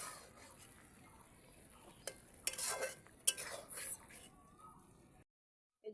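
Coriander leaves and garam masala being stirred into an egg dish in a pan, heard as a few short scraping and clinking strokes of a utensil against cookware over quiet background, ending in near silence.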